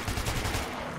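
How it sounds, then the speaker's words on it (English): Gunfire in the first-person shooter Metro, a broad burst with a rapid rattle of shots, loud and close, filling the whole moment without any voice over it. "Oh, I heard a gunshot."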